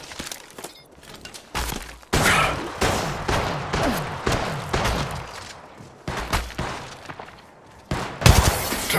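Gunfire in the shooter game Apex Legends: rapid automatic bursts and sharp single shots crack close and loud, with brief pauses between volleys and a few impact and shatter sounds.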